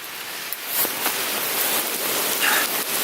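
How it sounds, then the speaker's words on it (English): Steady outdoor rain hisses as a broad, even wash of drops falling on surfaces, with a few louder patters standing out against the constant patter; no voices are heard. "it's been snowing and sleeting and raining on me, and that's just the case here too."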